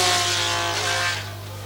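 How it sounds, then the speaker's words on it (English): Red Brabham Alfa Romeo and John Player Lotus Ford Formula One cars race at Dijon in 1977, a loud, sustained engine roar with a steady hum beneath that fades slightly toward the end. "Red Brabham Alpha against the John Player Lotus Ford."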